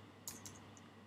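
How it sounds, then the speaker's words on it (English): A few faint keyboard keystroke clicks from someone typing code, two or three soft taps spaced apart over low steady room hum. "I'm typing, it's terrible."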